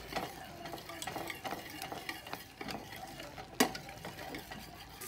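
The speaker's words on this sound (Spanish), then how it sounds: "Está hierve y hierve." Creamy Alfredo sauce bubbling and simmering in a pan on the stove, with a steady soft sizzle broken by occasional utensil scrapes and one sharper clink, heard close and alone without talk.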